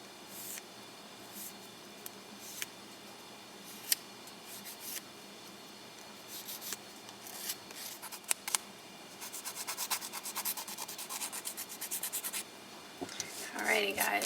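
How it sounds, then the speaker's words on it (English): Long natural nails being smoothed along the sides and free edge with a nail file, giving soft repeated rubbing and scratching strokes that grow denser and louder toward the end, close up, with some quiet talk at times. "I'm going to gently file the sides along the free edge to keep them smooth too"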